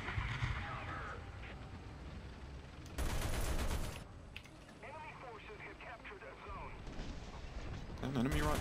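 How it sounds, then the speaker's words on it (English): Artillery strike in War Thunder during tank battle gameplay, heavy booming blasts and rumbling bursts amid engine noise, with players talking over the action. "Calling artillery on the point."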